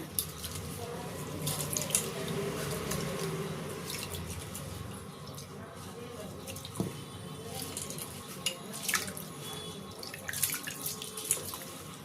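Rice is washed by hand in a sink, water sloshing and trickling with scattered splashes and drips as the grains are rinsed and stirred.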